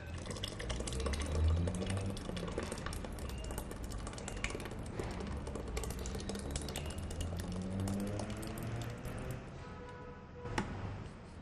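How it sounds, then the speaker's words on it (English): Soup poured from a container back into a cooking pot before a thickener goes in, a steady liquid splashing and sloshing that runs unbroken for the whole stretch at moderate loudness, with a few clinks near the end. "remove the soup from here and add it back into the pot"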